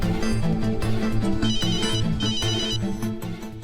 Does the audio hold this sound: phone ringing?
yes